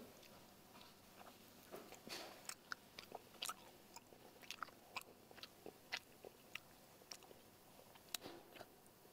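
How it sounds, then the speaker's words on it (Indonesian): Someone bites into and chews a small egg-filled pempek, a fish cake from Palembang. Close, soft crunches and wet chewing repeat irregularly in a quiet room. "Kita gigit tengahnya dulu."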